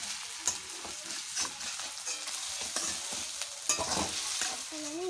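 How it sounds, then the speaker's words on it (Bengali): Soybean curry frying in a pan, a steady broadband sizzle with repeated scraping clicks of a spatula stirring through it, close and moderately loud with no talk. "সয়াবিনের তরকারিটা সুন্দর করে আমি ভাজছি"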